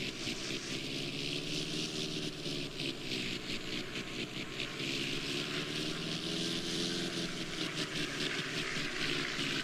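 A propeller airplane in GTA San Andreas drones steadily throughout, a loud continuous engine hum with a wavering pitch and a windy rush, heard alone.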